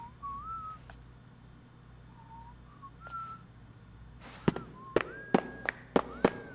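A game character in Deadly Premonition 2 whistles the theme melody, a thin wavering tune heard faintly over a low background hum, then several sharp, loud firework-like pops break in near the end.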